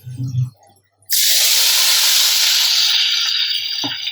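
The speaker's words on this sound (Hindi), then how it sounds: "अभी तड़का अपने हलीम में डाल लेते हैं।" A sudden loud sizzle erupts as hot tempering is poured into haleem after a short pause, hissing steadily for several seconds, slowly fading, following a brief voice at the start.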